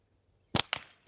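Two sharp gunshots fired outdoors on a cold day, a loud crack followed a moment later by a second, slightly weaker report, with quiet before them.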